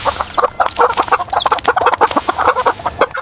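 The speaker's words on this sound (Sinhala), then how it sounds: "මේ කුකුල්ලු මේ විදියට පැන කන විදියට නම් ඉක්මනට ලොකු වේවි" A flock of cartoon chickens eating, giving loud, rapid overlapping clucks in a busy, continuous chatter close up, with no talking.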